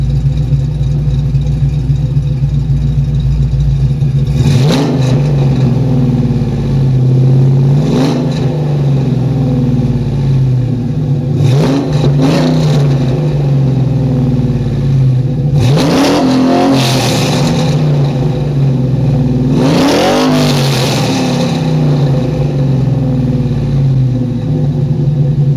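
An SN95 Mustang GT V8 with aftermarket cams idles loud on a cold start with a lumpy, choppy burble, broken by four sharp revs that climb and fall back, each a few seconds apart.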